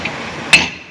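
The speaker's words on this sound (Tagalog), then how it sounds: "pinupukpok na, tinatanggal na siya" One sharp metallic hammer strike rings out while a spring is being removed from a Ford F-150 in a garage, with a brief ringing decay afterward.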